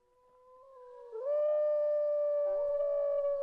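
A single wolf howls loud and clear, its drawn-out tone rising then holding steady with a slight waver, alone and close.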